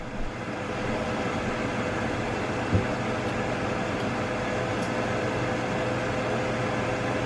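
A Ninja Foodi cooker runs with steaks and asparagus inside, giving a steady, even mechanical hum from start to finish, with one brief faint click partway through.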